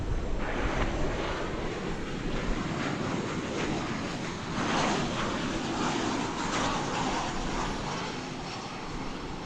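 Airliner arriving on the runway at Dallas Fort Worth Airport, a gusty morning landing heard as a continuous wide jet rumble and whine at moderate distance, steady with slight swells and no talk.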